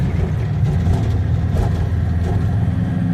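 An early Ford Zephyr MKIV with a V4 engine, probably needing a front seal, runs loud and steady with a deep, rough rumble, rising and easing slightly as it is revved, with no talking.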